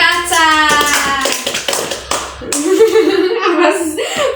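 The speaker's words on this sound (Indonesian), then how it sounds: "Tepuk tangan untuk Kakak Aca." Children clap their hands during a toothbrushing lesson at a school, a burst of scattered clapping and tapping with chatter and a chuckle mixed in.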